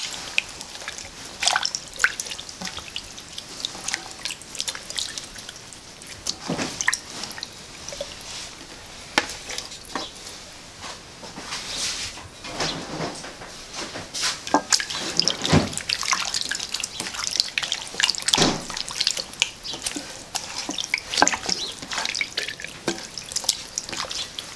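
Water poured over seasoned chicken coated with coriander for a Fez-style roast chicken, a steady close trickle and dripping with intermittent splashy spikes, running continuously with no talk.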